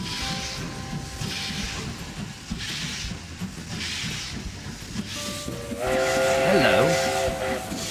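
A train in an Android train racing game rumbles and hisses, with a steam whistle sounding near the end. A brief spoken greeting rises over the game audio.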